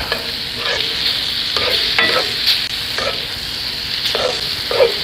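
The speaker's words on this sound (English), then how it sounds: "We're just going to add a cold butter at this point and just keep moving things around." Cilantro lime tequila shrimp sizzling in a pan as cold butter is added, with a steady hiss broken by repeated scraping strokes of a utensil moving everything around.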